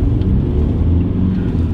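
A loud, deep diesel engine rumble from an Audi A4 TDI under way with a new intake manifold, steady and close with a low droning tone.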